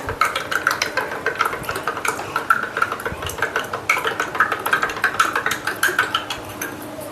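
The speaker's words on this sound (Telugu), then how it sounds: "దీన్ని బాగా కలుపుకోవాలి" A spoon stirs juice with honey in a glass, quick rhythmic clinks against the glass, close and loud, with no voices.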